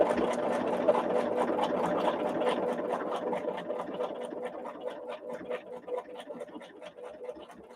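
A sewing machine stitching a quilt block, running as a steady, close, rapid mechanical whir with fine rhythmic ticking of the needle throughout, slowing slightly near the end.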